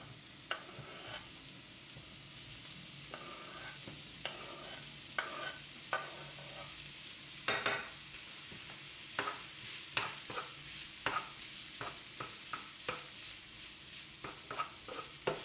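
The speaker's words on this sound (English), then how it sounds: "As soon as the sausages are sliced, add them to the onion and saute them together." Sliced sausages and onion sauté in a pan with a quiet, constant sizzle. A spatula knocks and scrapes at irregular intervals as it stirs them, close but soft, with no talking.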